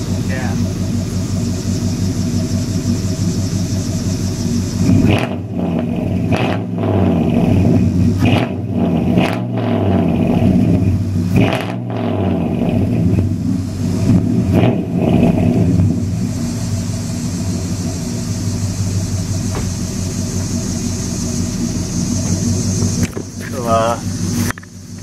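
A 2004 Toyota Tundra with a 4.7-liter 2UZ-FE V8 idles with a deep steady rumble, then revs several times in short rising bursts before settling back, heard up close while a person speaks over part of it.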